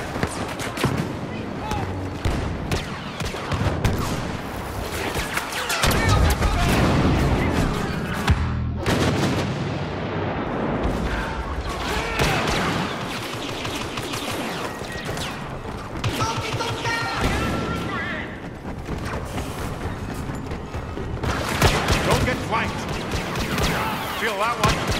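Blaster fire rings out across a Star Wars Battlefront battle, with repeated shots, volleys and heavy booms layered over continuous combat noise, while voices call out at times beneath the barrage.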